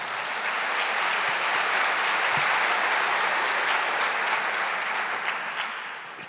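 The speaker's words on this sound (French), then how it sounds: "Alors, s'il y a un public, on va applaudir." A live audience claps loudly and steadily for several seconds in a dense wash of applause that tapers off slightly at the end.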